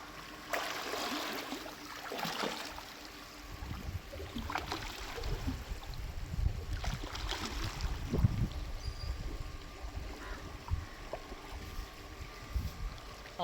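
Water sloshing and splashing from a swimmer gliding and kicking two or three times per glide in a pool, steady broadband churning with a few stronger splash bursts, fairly close and continuous.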